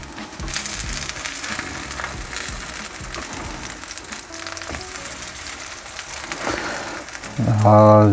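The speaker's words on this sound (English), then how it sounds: "I placed some fritters in there. We're just gonna cook the one side and then we'll flip that." Corn fritters frying in a pan give off a steady, loud sizzle and crackle that runs throughout, with a brief tonal sound near the end.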